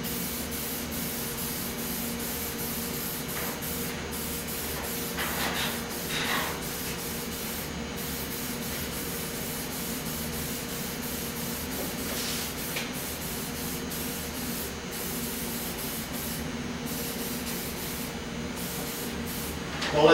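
A continuous, faint hiss of ceramic clear coat being sprayed in a thin coat onto a BMX bike frame, steady and unbroken for the whole stretch.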